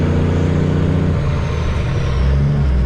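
A cabover truck rounds a corner with a loud, close engine drone whose pitch shifts as it changes speed, continuous throughout with no talking.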